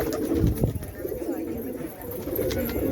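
Domestic pigeons coo steadily in a low, throaty warble from a close flock kept in a backyard coop, with a continuous murmur of several birds layered together.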